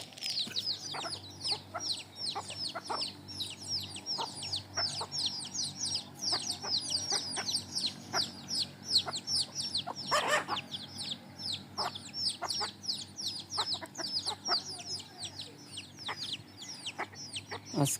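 Ten native hens on a small village farm cluck and chirp in a busy, overlapping chorus of short calls, fairly close and steady, with occasional louder squawks and no talking.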